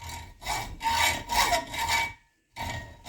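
Hand saw blade cutting metal along a scribed line for a chainsaw milling jig, rhythmic back-and-forth rasping strokes, close and fairly loud, with a short silent pause before the strokes resume.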